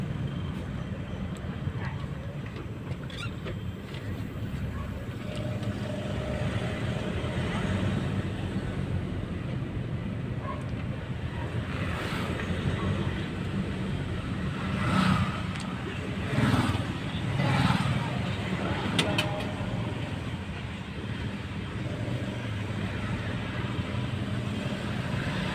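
A car out on a road test in traffic drives with a steady engine and road drone, growing louder in brief swells near the middle, with no clear talking.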